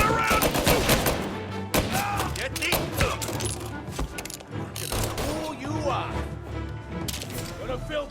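Gunfire in the video game Mafia: Definitive Edition, scattered sharp shots and clattering mechanical bursts mixed with voices and background game sound.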